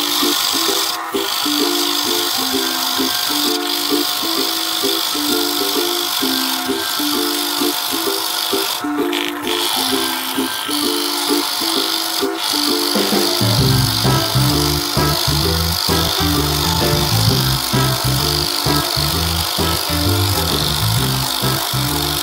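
A 2.25-inch multi-spur bit drills into a scrap wood blank, a steady grinding, rasping bore that deepens and grows heavier partway through, loud and continuous with no talk.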